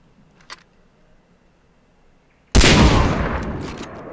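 Gunfire in the video game Far Cry 3, a quiet stretch with one faint click, then a sudden loud blast whose roaring, noisy tail slowly fades over the remaining seconds.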